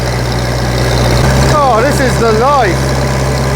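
A Grey Fergie tractor engine runs steadily at close range with a loud, constant low exhaust drone, while a person speaks over it.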